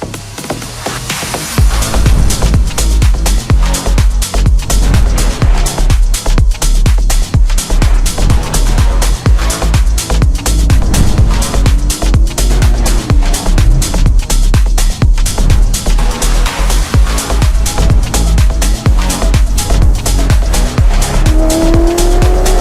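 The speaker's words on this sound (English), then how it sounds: "You can hear the V8 rumble" A loud, deep V8 engine of a Mercedes-AMG GT R rumbling and revving continuously up close, with tires squealing at points and no talking.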